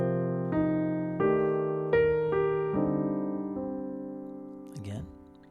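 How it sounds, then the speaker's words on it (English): Arpeggio played over a 2-5-1 chord progression, sustained chords struck in a steady sequence of about seven attacks with notes ringing over them, fairly close and clear, ending with a brief vocal sound. "check out the arpeggio with my 2-5-1 underneath it"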